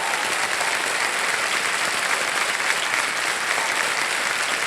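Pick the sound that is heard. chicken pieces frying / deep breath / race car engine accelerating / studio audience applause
studio audience applause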